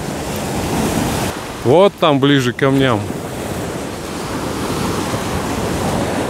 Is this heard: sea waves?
yes